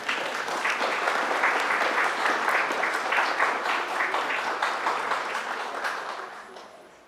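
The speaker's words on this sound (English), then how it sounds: "Please give yourselves a winter holiday round of applause." An audience at a winter holiday gathering gives a full round of applause, many hands clapping in a dense, steady wash that builds quickly, holds, then fades gradually toward the end.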